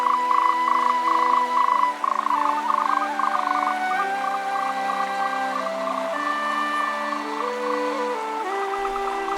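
Frogs croak in a cool mountain forest, a chorus of repeated pulsing calls stacked over one another, loud and continuous, with insects mixed in.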